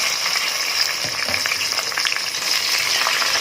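Rice grains frying in very hot oil, a dense, close crackling sizzle that fills the short stretch evenly with some brief stirring or popping bursts, no talking.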